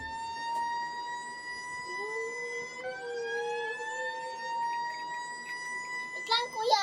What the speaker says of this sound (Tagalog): Red fire truck.